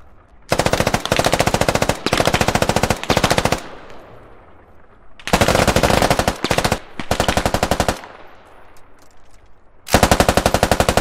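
AK rifle gunfire in the tactical shooter game Squad, fired very close across the street, comes in loud sustained automatic bursts separated by short pauses with echoing tails.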